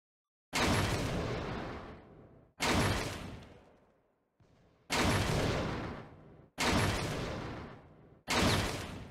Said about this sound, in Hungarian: A bal gombbal lősz, jobbal újra töltesz.